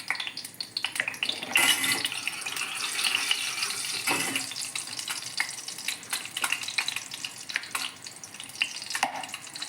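Pasta frying in ghee with salt and pepper: a steady, close sizzle with scraping stirring sounds running throughout, with no talking.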